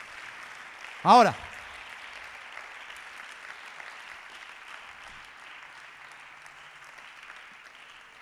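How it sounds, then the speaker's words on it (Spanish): Steady applause from a crowd fills the whole stretch, with a brief spoken word near the start. "a ese quiero que le des un aplauso bien fuerte esta tarde"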